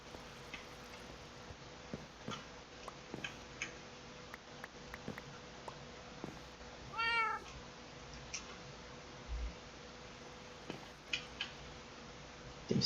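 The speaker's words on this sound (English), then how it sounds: "Them stinking cats are really annoying." A cat lets out a drawn-out, wavering meow near the middle, over a quiet steady ticking and scattered clicks in a Minecraft-style game setting.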